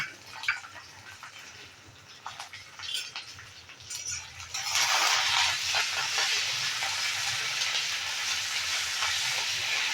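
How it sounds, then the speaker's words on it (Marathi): Green chillies and curry leaves hit hot oil in a pan already holding mustard and fenugreek seeds. Scattered pops give way to a sudden loud, sustained sizzle that stays steady and close, with no talking. "आता ह्याच्यातच आपण मिरच्या टाकून घेऊया आणि याच्यातच कढीलिंब टाकून घेऊया."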